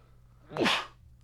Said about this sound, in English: Excuse me. Just sneezed.